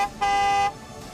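A single car horn honks steadily for about half a second, a clear harmonic toot over faint background noise.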